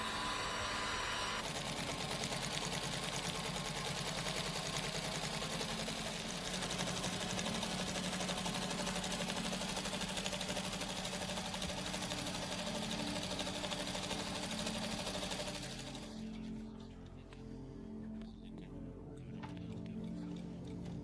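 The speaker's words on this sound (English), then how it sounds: "After that, we use a single line machine." A single line sewing machine stitches a seam in an airship envelope with a continuous, even mechanical whir that runs for about fifteen seconds before stopping, leaving quieter workshop room sound.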